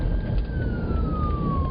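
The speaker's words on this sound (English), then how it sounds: "Ambulance, move over," An ambulance siren passes a taxi in traffic as a steady tone glides slowly downward in pitch, continuous and fairly loud over rumbling road and engine noise.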